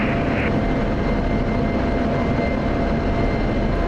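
Steady broadband roar of a single F-16 fighter jet approaching overhead on its inbound approach, continuous and fairly loud with no variation in level, alone without speech.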